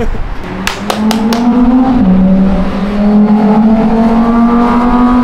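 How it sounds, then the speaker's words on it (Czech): Loud cars rev below an apartment building in Miami, one engine climbing and shifting pitch as it accelerates past, close and dominant, with a few sharp clicks near the start. "Jak vidíte, tak nám pod barákem už znějí nesmyslný káry"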